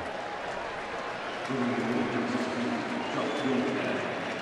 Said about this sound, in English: And the fans here cheering.